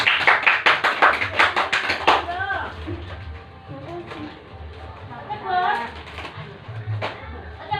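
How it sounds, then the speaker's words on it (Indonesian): Pupils in a grade 4 primary school science classroom clap their hands in a quick burst for about two seconds, then children's voices and talking follow over the remaining quiet stretch. "Tepuk tangan."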